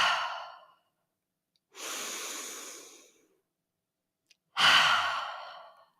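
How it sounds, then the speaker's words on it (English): Three slow breaths during a morning yoga session: an airy mouth exhale, then a long inhale through the nose, then another breathy exhale out through the mouth, each clearly separated by silence. "Inhale through the nose, exhale through the mouth"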